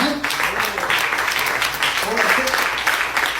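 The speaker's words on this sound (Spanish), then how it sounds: "Denle el aplauso, el Señor lo merece." A church congregation applauds during a Spanish-language sermon, a dense, steady wash of clapping filling the short stretch, with voices mixed underneath.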